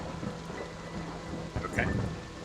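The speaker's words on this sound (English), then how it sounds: "Thunder echoes in the distance as you guys make your way back to Fort Rannoch." Distant thunder rumbles low beneath a steady wash of rain, the rolling rumble swelling briefly near the end, with faint voices in the background.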